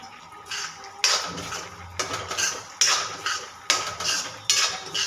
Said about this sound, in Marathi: आणि हे व्यवस्थित हलवून घ्यायचे जोपर्यंत मनुके असे फुलल्यासारखे दिसत नाही तोपर्यंत। चला तर मग हे हलवून घेऊया।